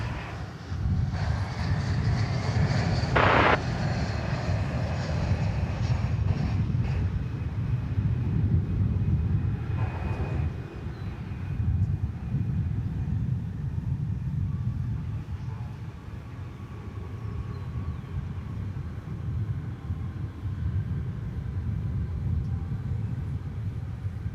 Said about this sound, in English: here comes Flight 2439 from Salt Lake City in Utah